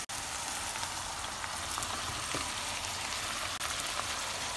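Ackee frying in a pan: a dense, even hiss of sizzling oil, close and continuous, with occasional faint pops and no voices.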